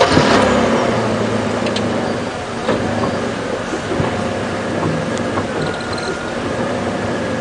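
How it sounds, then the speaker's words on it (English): A safari vehicle approaches on a game drive, a loud continuous engine rumble with rattling, clanking mechanical noises and occasional creaks throughout. "So we've got another vehicle coming."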